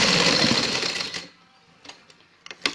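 Sewing machine stitching down both sides of a shirt slit for a border design, a fast buzzing run for about a second, then stopping, followed by a few small clicks and taps.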